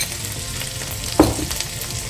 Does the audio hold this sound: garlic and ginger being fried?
yes